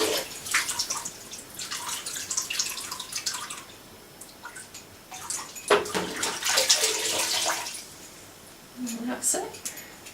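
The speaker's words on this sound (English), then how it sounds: "I just wash them in warm water" Horse bridle bits washed by hand in warm water, with splashing, dripping and light metallic clinks in bursts, close by and without speech.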